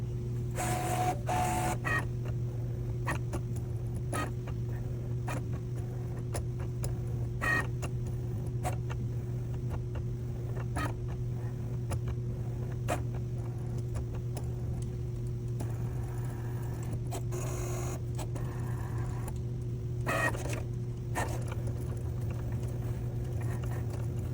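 A Cricut machine cuts stickers with a continuous electric motor hum, while quick mechanical ticks and short whirring carriage movements repeat throughout at close range.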